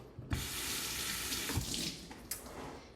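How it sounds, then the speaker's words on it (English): Water runs steadily from a kitchen tap while a work surface is rinsed during salad preparation. The flow is close and continuous, with a few splashy surges as the stream hits the surface. "Now let me just rinse off my surface"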